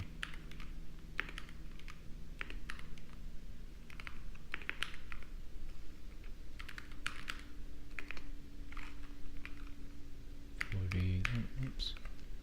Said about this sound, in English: I'm on this like new keyboard which has all the keys really packed in tight